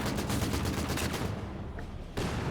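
A Vickers machine gun firing in Company of Heroes 2, a loud, rapid, continuous rattle that thins briefly near the end before resuming at full intensity.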